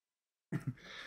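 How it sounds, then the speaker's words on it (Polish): A house cat lets out a short, low vocal sound, two quick close bursts followed by a softer breathy tail. "Aż kot musiał to podsumować."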